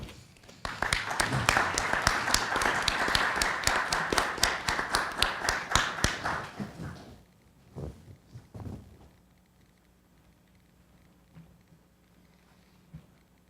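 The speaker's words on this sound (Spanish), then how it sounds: "Por favor, un grandísimo aplauso." Applause from the audience at a university forum on family mediation in Costa Rica, loud, rapid clapping for about seven seconds that thins out to a few scattered claps before quiet.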